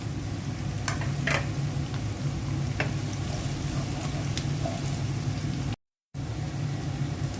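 Onions fry in a pan for a beef and new potato curry, giving a steady, close sizzling hiss with a few faint clinks and one brief cut-out near the end.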